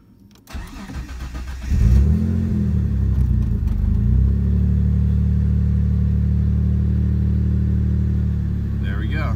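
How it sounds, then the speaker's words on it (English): A Mitsubishi 3000GT's engine cranks briefly and then catches, settling into a loud, steady idle close by with a low rumble that holds to the end. "And if I go ahead and start the car."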